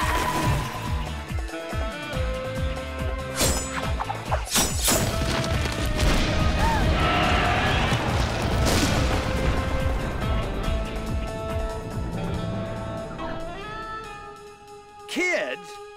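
Smashing and crashing in a Batman cartoon fight, loud repeated impacts and crashes layered over music and sound effects, with voices speaking throughout.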